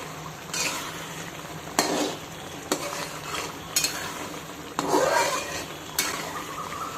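Eggplant curry bubbles and sizzles on a full gas flame while a utensil stirs and scrapes the pan in several distinct bursts over continuous frying noise.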